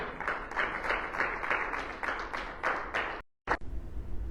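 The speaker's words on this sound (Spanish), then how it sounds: "Denle un aplauso al Señor" A church congregation gives a brief round of applause after a prayer, a soft burst of clapping in quick irregular pulses that cuts off abruptly into silence, followed by one short final clap.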